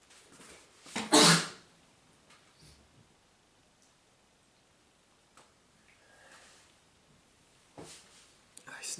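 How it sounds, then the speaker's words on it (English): A single sharp, loud sneeze bursts out near the start. Afterwards there are soft breaths and small rustles in a quiet room. "I sneezed there"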